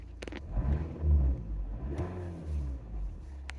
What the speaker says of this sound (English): Give it a tickle of throttle, we see the graph go up.